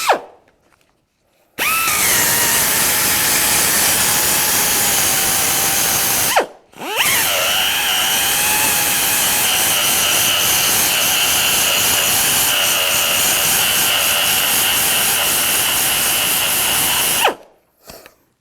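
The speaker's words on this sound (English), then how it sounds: "So now I'm going to switch over to the wire brush." A wire brush on a power tool strips undercoating from a car in a shop, running as loud continuous grinding whirs in two long bursts with a brief pause between them and silence at the start.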